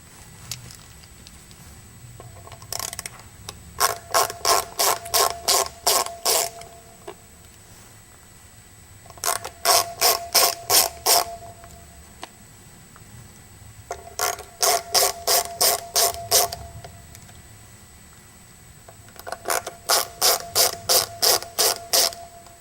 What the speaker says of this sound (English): we must first remove the back plate, which is held on by 6 Phillips head screws.